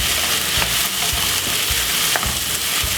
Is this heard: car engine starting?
no